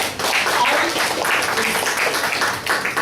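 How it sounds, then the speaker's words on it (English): Audience at a Toastmasters club meeting clapping in a dense, steady round of applause for about three seconds, fairly loud and without pause. "Give a big round of applause to her."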